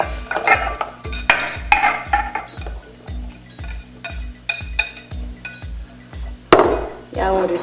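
Frozen sour cherries drop into a metal pot on a stove, clattering and clinking in quick, uneven bursts, close and moderately loud over a low, regular pulsing hum from the stovetop.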